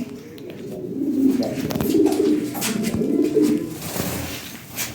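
Lahori Sirazi pigeons coo close by in a continuous, throaty warble with rolling low notes, a few soft rustles and faint background noise.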